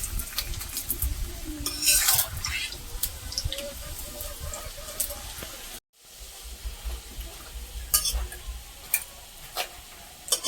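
Greens frying in a pan give a soft sizzle under clinks of a utensil on cookware and stirring scrapes, close by in a home kitchen, with a brief drop to silence midway.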